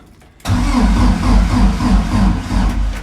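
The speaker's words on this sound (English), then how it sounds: "cranked it over, got oil pressure, got it circulating, which is always a bonus on an engine I've never started before" A 1979 Mk2 Ford Escort RS2000 engine cranking over on the starter after a brief quiet moment, a loud, rumbling, pulsing churn close by without catching, on an engine that has never been started before.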